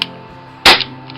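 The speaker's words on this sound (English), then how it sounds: "just to demonstrate that there is BBs and CO2 in, I'm just gonna shoot that." A single sharp crack from an Umarex Smith & Wesson R8 CO2 BB revolver fired at a target, loud and close, with a brief ring-off after the shot.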